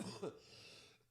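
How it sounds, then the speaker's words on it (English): A single short, rough cough up close, followed by fading room hiss. "I really apologize for the coughing."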